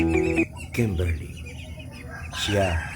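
A Muscovy duck hen calls among her seven ducklings, only days old, with short raspy vocal bursts and thin peeping, close by over a low background.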